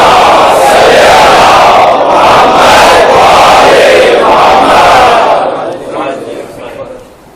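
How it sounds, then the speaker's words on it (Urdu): A large congregation loudly chants salawat together, a dense roar of many voices that holds steady for about five seconds before fading away. "بلند آواز سے صلوات"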